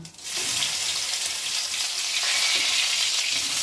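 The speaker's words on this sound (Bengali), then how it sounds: "রসুনটা লাল লাল করে ভেজে নেব।" Crushed garlic fries in hot oil with a loud, steady crackling sizzle that starts abruptly and continues unbroken, close up and without any talk.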